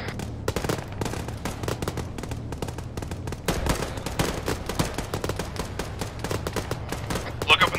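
Gunfire crackles across a battlefield in the ArmA combat game, rapid overlapping bursts and single shots, some near and punchy, others distant, continuing relentlessly throughout.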